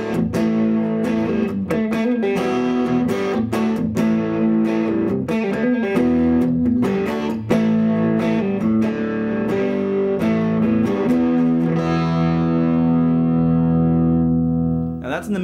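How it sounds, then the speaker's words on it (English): A Carvin CT424 solid-body electric guitar played through an amp with mild overdrive, strummed chords and picked notes with a slightly gritty, sustained tone, ending on a ringing chord that fades out. "now I add a little bit of distortion inside the amp, and I want to show you how this thing kind of rocks out too with just a little bit of a mild overdrive."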